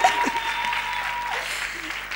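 Audience applause at a gospel singing contest, a steady wash of clapping throughout with cheers and voices mixed in, close and fairly loud.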